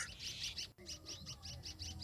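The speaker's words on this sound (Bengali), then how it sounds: "পাখির কিচির মিচির আওয়াজ" Small birds chirp in quick repeated bursts on a sandy river char with kash grass, the high tweets fairly faint but clear, coming in a steady rhythm with a brief gap near the middle.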